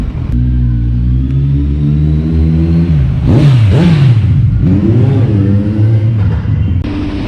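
The engine of a 2019 Kawasaki Ninja 1000 superbike idles low and steady, then gives a few rising and falling revs before settling. It is loud and close, with no voices.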